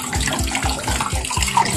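Tap water runs steadily over water spinach stems being washed by hand, a constant splashing stream with soft rhythmic sloshes as the stems are rubbed, and no talking.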